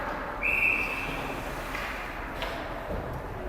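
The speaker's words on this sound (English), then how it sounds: "And we have a whistle." A referee's whistle blows once, a short sharp shrill blast at a youth squirt ice hockey game in an arena, heard over the low hum of the rink with faint crowd murmur after.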